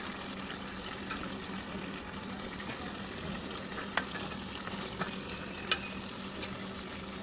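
Fried fish goes into a pot of simmering vegetables, a soft, continuous bubbling sizzle broken by a few faint clicks and taps, fairly quiet, with no voices.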